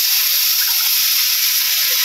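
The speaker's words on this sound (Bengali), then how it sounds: "মশলা কষে নিতেছি" Spices frying in hot oil, giving a steady, even sizzle and hiss with no breaks.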